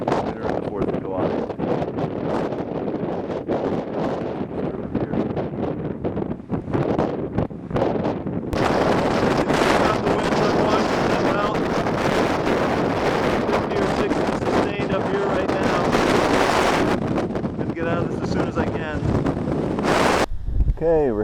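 Strong wind gusts roar across an exposed mountain ridge on Mt. Mansfield in Vermont, buffeting loudly and continuously, with heavier blasts partway through.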